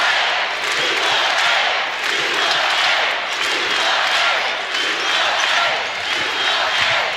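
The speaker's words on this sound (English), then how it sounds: "Crowd is roaring." The crowd roars in an arena during an NCAA women's basketball tournament first-round game between UNLV and Arizona. The loud, sustained cheering swells and dips around sneaker squeaks and ball bounces, with a commentator's voice under it.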